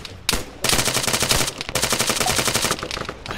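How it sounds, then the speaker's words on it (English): Close enemy soldiers firing in an Arma 3 King of the Hill battle: a sharp opening shot, then long rapid automatic bursts with short gaps, loud and near, with no voices. "I think these are some awful dudes shooting, by the way"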